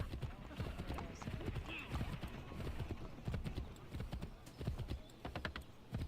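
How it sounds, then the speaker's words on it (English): A horse gallops through the streets of New York City in the video game Assassin's Creed III. Its hooves clatter in a steady, rapid rhythm over background game noise, with faint voices underneath. "Just a regular Native American riding a horse through New York City."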